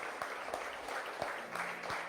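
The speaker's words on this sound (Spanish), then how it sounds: "Dale una ofrenda de palmas." Church congregation applauding after a sermon, soft, scattered clapping with a few sharper nearby claps standing out.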